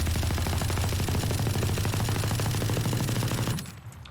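Sustained automatic gunfire from a rifle with a 50-round magazine in the game Valorant, a rapid unbroken stream of loud shots that stops abruptly near the end.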